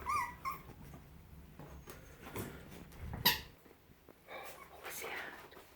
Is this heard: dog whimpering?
yes